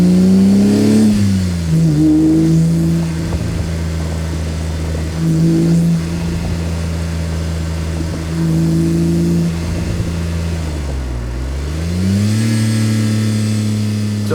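A BMW 128i M Sport engine howls while driving, its steady throaty drone rising and falling through shifts and throttle changes with no talking.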